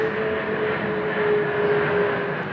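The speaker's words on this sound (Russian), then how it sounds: "Почему, когда я снимаю видео, постоянно самолет летает над головой?" Aircraft passing overhead outdoors in Poland, a steady broadband engine roar that holds loud and even throughout with no talking.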